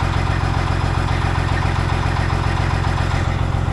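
A cabover truck's diesel engine idles steadily up close, a loud, even low rumble with a regular pulsing throb and no voices.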